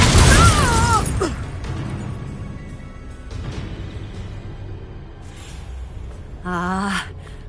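The Confringo fire spell in a Hogwarts game bursts with a loud, sharp blast, followed by lingering crackles and a few smaller pops. A voice cries out during the opening, and a brief tonal effect rings near the end.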